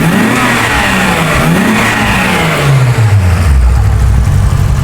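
A Toyota Supra fitted with an RB26 engine revs hard and loud, its pitch sweeping up and down through several throttle blips before settling into a deep, sustained drone near the microphone.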